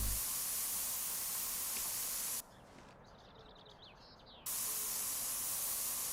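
A continuous, fairly loud hiss of spray paint from a can in the Spray Paint Simulator video game, running steadily, stopping for about two seconds, then resuming.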